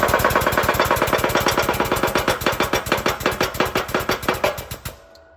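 Pneumatically powered 20-ton press pushing a part on for an E30 M3 underbody, a fast steady rhythmic chugging of pulses that slows and stops abruptly near the end, with no talk.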